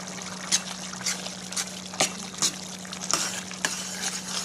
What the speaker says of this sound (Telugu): పెద్ద స్పూన్ కారం వేసుకోండి.